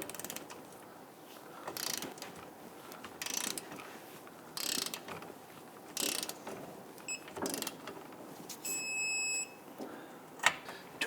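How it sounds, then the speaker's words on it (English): A ratcheting torque wrench tightening the outer rear lower control arm bolt on a Dodge Charger, close repeated bursts of rapid ratchet clicks at a regular pace, ending in a high beeping tone. "Torque down the outer bolt to 70 foot-pounds"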